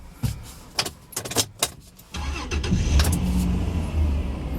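Keys jangle and click in a 2000 Dodge Intrepid ES, then the engine cranks and fires up into a steady, fairly loud idle before a test drive, with no talk.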